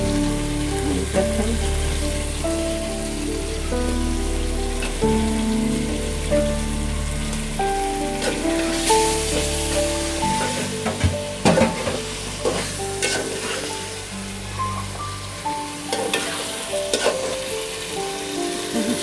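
Chicken pieces frying with bay leaves in a pan, a loud, close, continuous sizzle with scraping stirs and intermittent crackles and pops; one brief spoken word.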